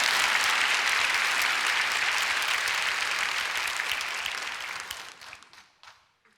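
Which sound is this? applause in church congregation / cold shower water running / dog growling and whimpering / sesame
applause in church congregation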